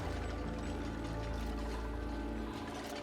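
Water pours steadily in the Oxygen Not Included video game, a continuous splashing flow running the whole time beneath layered game music.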